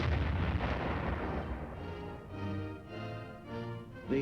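A tank firing its fast-firing 76mm gun, a heavy blast rolling into a long rumbling decay, followed by a fainter drawn-out grinding rumble that pulses several times, loud and somewhat distant.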